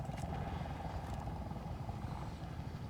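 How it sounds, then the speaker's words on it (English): Helicopter in a Battlefield video game, a steady loud rotor drone with dense low-end rumble that holds throughout without letting up. "there's a helicopter"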